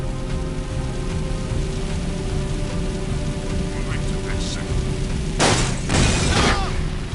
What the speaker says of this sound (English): it is kind of cool just to ram into a person and watch the vehicle explode within it